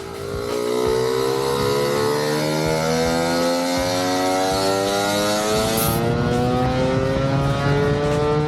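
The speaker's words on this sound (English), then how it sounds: "Rune from our group had his Lambretta on the dyno" A Lambretta scooter engine revs on a dyno test rig, a loud two-stroke note climbing steadily in pitch as it accelerates under load, sustained and close for several seconds.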